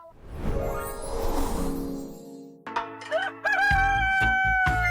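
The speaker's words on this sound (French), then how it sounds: "Je hais ce coq." A rooster crows loudly and close, a long drawn-out cock-a-doodle-doo with no talk over it, followed by a second burst of crowing mixed with bright, ringing tones.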